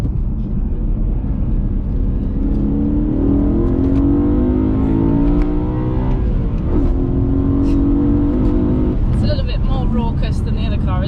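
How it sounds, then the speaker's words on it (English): A BMW E92 M3's V8 revs up through the gears while driving, a loud rising and falling engine growl heard from inside the car, with people talking over it throughout. "I like the V8 noise."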